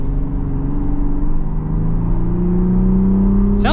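A 2026 Ford Bronco Raptor's tuned V6 accelerates hard, its engine note rising steadily in pitch, loud and close throughout.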